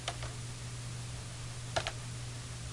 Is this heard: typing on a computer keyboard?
yes